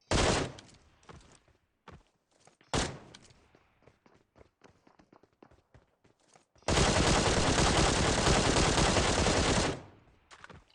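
PUBG Mobile gunfire: a few sharp single shots and bursts, then a long, loud unbroken stream of automatic fire lasting about three seconds before it cuts off.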